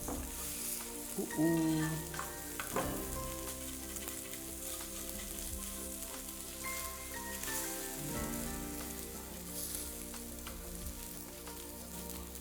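An egg sizzles in a hot pan for a Ugandan Rolex, a steady close frying crackle with occasional scraping and utensil clinks, and a brief voiced exclamation.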